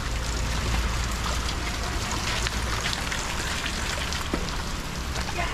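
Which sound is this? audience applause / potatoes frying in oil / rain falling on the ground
rain falling on the ground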